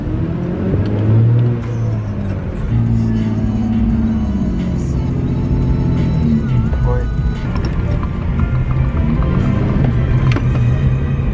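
A manual car engine rising and falling in pitch as it accelerates and changes gears, a close steady rumble with revving swells, while people talk over it.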